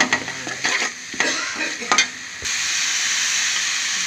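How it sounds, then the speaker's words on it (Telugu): Mutton fries in a paste of onion and green chillies, with several loud scraping stirs of a ladle against the pan, then a continuous strong sizzle and hiss with no speech. "చూసారు కదా, ఇది బాగా ఫ్రై అవుతుంది అన్నమాట"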